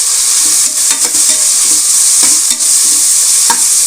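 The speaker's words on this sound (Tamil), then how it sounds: "இஞ்சி பூண்டு பேஸ்ட்டு ஆட் பண்ணிட்டோம்." Ginger garlic paste fries with vegetables for a biryani, giving a loud, dense, continuous sizzle, close up, broken by repeated spoon scrapes and stirring taps, with no talk.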